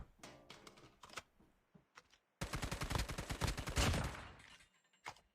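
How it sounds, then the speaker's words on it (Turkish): Gunfire from the mobile shooter COD Mobile during headshots: scattered single shots give way to a long, loud burst of rapid automatic fire, then a final lone shot. "Kafadan vuruyorum."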